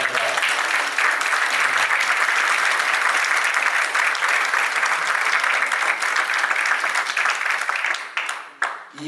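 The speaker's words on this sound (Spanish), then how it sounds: "brindarle un gran aplauso a Diego por este gran trabajo." A sustained round of applause from an audience at a municipal book presentation in Pichilemu, dense and loud for several seconds before thinning out into scattered claps at the end.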